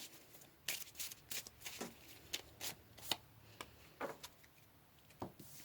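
Tarot cards being shuffled and pulled for a past-life reading, a quiet run of crisp riffling flicks and soft slaps in uneven bursts, close by with no talking.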